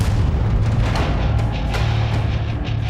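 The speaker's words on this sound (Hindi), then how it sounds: "चारों तरफ बोफोर्स तोपों से बरसते गोलों" Bofors artillery guns fire shells during the Kargil war near Tiger Hill, heavy booms piling into a continuous loud rumble with sharper blasts cutting through.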